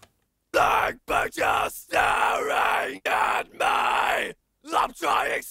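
Harsh, throaty metal screams come in a series of short and longer bursts separated by brief silences, loud and close, each one raspy and distorted, heard as an equalized vocal take with no other instruments.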